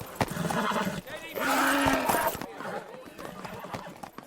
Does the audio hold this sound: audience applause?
no